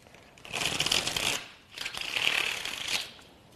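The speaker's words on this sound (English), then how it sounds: "You only need to shuffle once" A deck of playing cards is shuffled twice in quick succession, each a dense, crisp riffle of about a second, close and clear with no talk.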